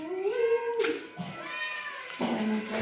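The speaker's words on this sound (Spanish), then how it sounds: "Miren, ahí ya vino un gatito." A cat meows several times in a home kitchen during dinner cooking, with drawn-out rising and falling cries close to the listener, a quieter sound between them.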